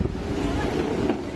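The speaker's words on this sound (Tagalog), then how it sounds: "sa video na ito ni Mayor Alfred Romualdez ang pag-ampias ng alon sa coastal area." Storm waves splash against a coastal area in Leyte during a typhoon landfall, a brief loud rushing roar of water and wind with a low rumbling wash.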